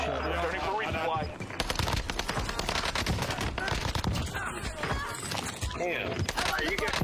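Gunfire in a video game, a dense stream of shots and bursts running through the whole stretch, loud and mixed with game effects while players talk over it.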